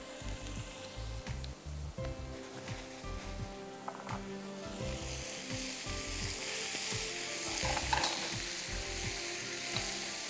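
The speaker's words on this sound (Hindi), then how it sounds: "चलिए अब इसको हमें डीप फ्राई कर देना है फिश को।" Fish fingers deep fry in cooking oil with a steady crackling sizzle that grows louder and denser partway through, mixed with clattering utensil knocks and scraping in the kitchen.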